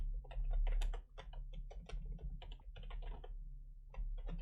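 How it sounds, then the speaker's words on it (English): Close, steady typing on a computer keyboard while a comment is entered into JavaScript code, with quick irregular keystrokes that continue throughout, with no talk. "I'm going to type in here the comment"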